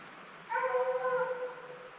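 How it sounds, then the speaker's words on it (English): A tracking hound gives a drawn-out, tonal bark that trails into a whine-like howl, one fairly close call rising out of a quiet background. "Yeah, he just barked."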